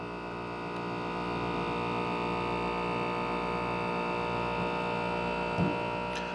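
The vacuum pump of a Tribest Backspin blender runs as a steady, even electric hum with a whining drone, constant and close throughout, with only a faint click near the end.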